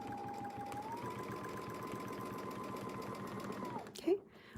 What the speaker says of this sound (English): and then sew up to the top.